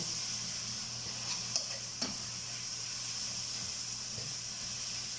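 Chicken pieces fry in a pan with a steady, even sizzle and hiss close by, broken only by a couple of faint clinks, with no talking.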